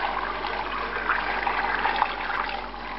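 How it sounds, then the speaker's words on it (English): Water pours steadily over garlic, onion, tomato, carrots and celery in a stockpot, a continuous close rushing wash with no talking. "And you add enough water to cover everything."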